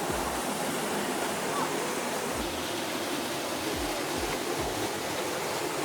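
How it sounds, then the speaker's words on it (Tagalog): A waterfall at a farm campsite in Bailen rushes in a steady, dense roar that holds evenly throughout, with faint low thumps underneath. "Oh, yun pala yung falls."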